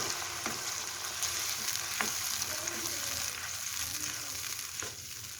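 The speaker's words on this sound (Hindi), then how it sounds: "और इस पेस्ट के साथ इसको अच्छी तरह भूनेंगे" Onion-tomato spice paste frying steadily in a pan for bottle gourd and chicken kofta, with a continuous close sizzle and occasional stirring scrapes throughout, no voices.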